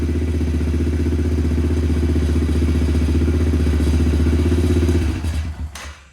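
A Kawasaki KLX110 dirt bike engine fitted with risers idles with a steady, close, chugging rhythm for about five seconds before the sound drops away and dies out.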